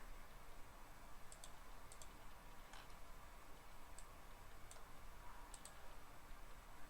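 Faint, sparse computer mouse clicks while browsing for a file, single and double taps spaced a second or so apart over a steady hiss, with no talking.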